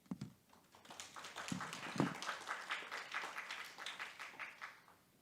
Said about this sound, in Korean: 박수를 여러분들 방역 지침 때문에 작게 치시는 줄 믿고 있는데